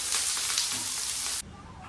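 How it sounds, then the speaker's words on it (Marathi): Chopped onions fry in a pan for a paneer bhaji, giving a steady, close, dense sizzle that drops suddenly to a quieter hiss near the end. "कांद्याला थोडंसं आता आपण फ्राय करून घेऊया"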